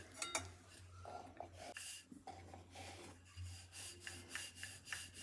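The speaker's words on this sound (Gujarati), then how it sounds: "હળવા હાથે વણતા જશું ને ફેરવતા જશું તાકે આપણો પરાઠો ફાટે નહીં" A rolling pin working aloo paratha dough on a board, giving soft repeated rubbing, rasping strokes in a steady back-and-forth rhythm, close up with faint knocks and a low background hum.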